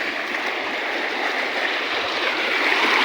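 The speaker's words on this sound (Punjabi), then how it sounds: "ਦੇਖ ਲਓ ਪਾਣੀ ਦੀ ਆਵਾਜ਼ ਕਿਵੇਂ ਪੈ ਗਿਆ" Floodwater rushes along a road after heavy rain, near flooded paddy fields, making a loud, steady broadband roar with no break and no voices.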